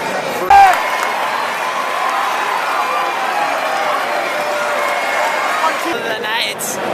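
A packed crowd at a college wrestling dual meet between Edinboro and Iowa roars and cheers continuously in a large arena, a loud sustained wash of voices with a brief sharp clap near the start.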